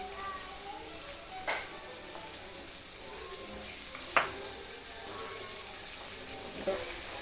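Masala paste frying in a pan for stuffed brinjal curry, giving a steady broad sizzle with a few brief clicks and spatters of stirring, close and moderately loud, with no talk.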